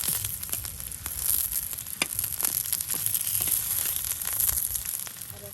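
Potato fritters sizzle steadily in hot oil as they are turned, a close, continuous frying hiss with scattered crackles and soft pops and no talking.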